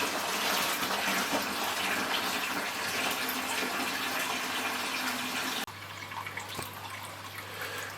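Water drains from home aquarium tanks during a partial water change, a steady rushing flow that cuts abruptly to a quieter trickle with a low hum near the end.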